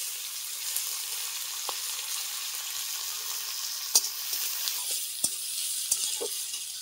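Chopped onion and carrot frying in a pan, a steady bright sizzle that runs throughout, with a few sharp stirring clicks and scrapes of a utensil against the pan.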